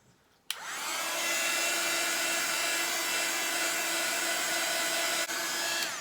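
A hair dryer blowing on wet watercolour paint switches on abruptly and runs at a steady, loud whine with a constant airy roar, briefly dipping near the end, with no talking.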